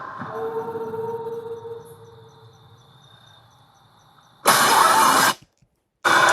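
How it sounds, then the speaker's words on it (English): Car in a FNAF movie trailer: a mid-pitched engine hum that fades over a few seconds, then two loud abrupt bursts of noise separated by a short silence, with no talk. "So Vanessa's driving the car and she crashes it."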